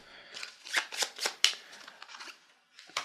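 A deck of crest cards for the Blades of Legend card game is riffle-shuffled up close, giving a run of crisp flapping bursts in quick succession, then a short pause and one final flutter.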